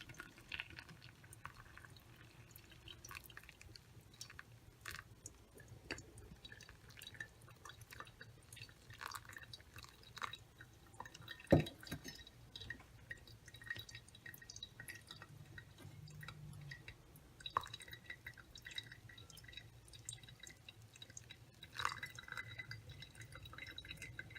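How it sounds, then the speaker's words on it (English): Hot cloudy chemical solution for a clock reaction drips through a filter, faint irregular drips and soft trickles scattered across a quiet, long stretch with one sharper tap midway. "it's still cloudy, so we're going to filter it for solution B"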